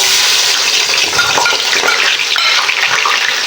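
Chopped onion dropped into hot vegetable oil, a loud, steady hiss and sizzle of frying filling the space without pause, close up and with no voices.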